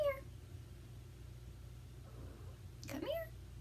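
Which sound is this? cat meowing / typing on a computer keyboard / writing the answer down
cat meowing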